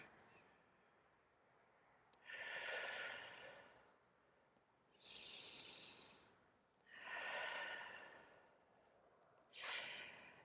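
Slow, continuous out-breaths during a relaxation breathing exercise: four long, airy exhales of a couple of seconds each, evenly spaced with quiet pauses between, close and clear with no speech.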